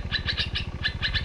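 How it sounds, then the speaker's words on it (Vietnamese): Flowerpeckers chirp in a fruiting tree, with bright, quick calls repeating in short bursts over a steady low pulsing rumble. "Ôi, chim sâu mà."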